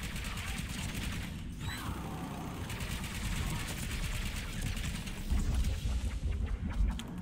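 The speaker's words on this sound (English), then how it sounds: "This thing shoots so fast, it has no stabilization." Rapid, continuous automatic gunfire from a fast-firing gun in Mass Effect multiplayer, a steady rattling stream of shots under game noise, with a voice talking at times.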